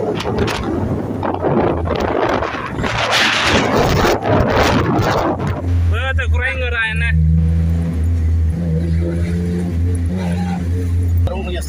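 A sports car with its original factory silencer exhaust, offered for sale in Jaffna, runs with a steady low engine drone and some revving while someone talks over it throughout.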